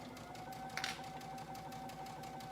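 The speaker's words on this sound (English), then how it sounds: "So we're going to sew across the top of this pocket to finish the hem" A sewing machine runs steadily and faintly, stitching across the top of a shirt pocket to finish its hem, with a rapid, even needle rhythm and a brief clack partway through.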